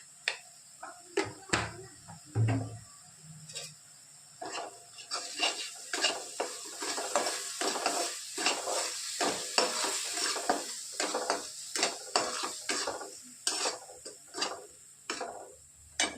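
Steady sizzling and scraping of onion-garlic masala, a little asafoetida and salt being stirred and roasted in a pan, with frequent clinks and taps of a spoon against the metal.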